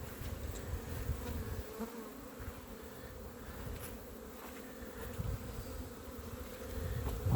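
Honey bees buzz around hives in a muddy apiary, a steady low drone from many insects close by, with individual bees passing near and swelling louder toward the end.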